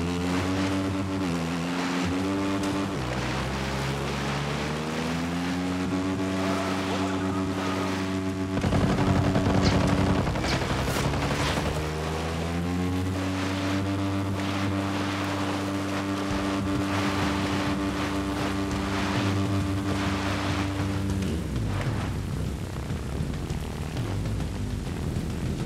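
Steady engine drone of a boat motor in the video game Ghost Recon Breakpoint, a loud continuous hum with harmonics that shift pitch as the throttle rises and falls, running alone throughout.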